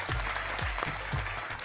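Steady, loud audience applause from a studio crowd at a Punjabi entertainment game show, a dense continuous wash of many hands clapping with no voices over it.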